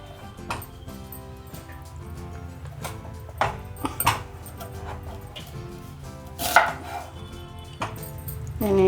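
Sweet potatoes being cut with a knife on a board, a run of irregular, fairly close chops and thuds with a few sharper, louder strikes, heard alone without talk.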